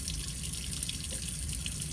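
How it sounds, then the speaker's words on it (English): Tap water runs steadily into a sink as it fills for washing a saline EEG cap, a continuous broadband hiss with faint dripping and no talk. "you're just gonna wait for the sink to fill up a little bit"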